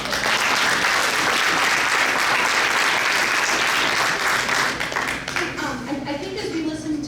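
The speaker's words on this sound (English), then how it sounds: "So another round of applause." A school audience gives a loud round of applause, dense clapping from many hands that stays full for several seconds before thinning and fading, while a voice starts talking over the tail.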